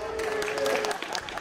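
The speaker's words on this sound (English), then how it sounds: "Give him a big round of applause" Comedy-gig audience in Bolton breaking into applause, a dense burst of clapping and crowd noise up close, with a voice talking over it.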